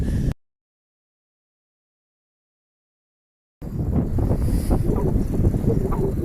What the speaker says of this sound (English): it's a little bit wet and windy, of course.